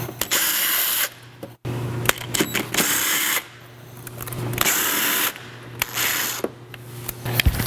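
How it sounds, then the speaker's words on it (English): A power drill backs screws out of a factory mud flap on a truck wheel well, the motor whirring in bursts of several seconds with short pauses between, close and loud. "take these screws out of this factory mud flap and get this off the truck"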